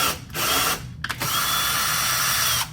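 A power drill drives a small screw into a door hinge with a Craftsman bit set, the screw spinning without biting: a close, loud whirring in bursts with brief pauses.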